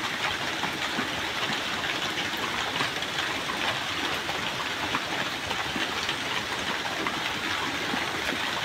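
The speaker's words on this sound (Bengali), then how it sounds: "প্রচুর বৃষ্টি নামছে।" Heavy rain pours down in a dense, unbroken roar, a loud steady hiss with no pauses across the whole stretch.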